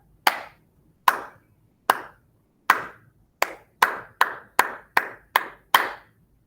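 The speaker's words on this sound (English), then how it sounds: "How about let's put it in our brain and just clap the rhythm." Children clap a rhythm in a kindergarten lesson: eleven sharp, loud hand claps with uneven spacing, a few slow ones followed by a quicker run, with no voices between them.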